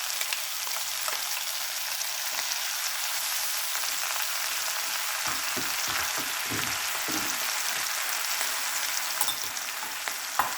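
Green chilli and garlic paste sizzles steadily in a pan, a constant close frying hiss with occasional stirring clicks.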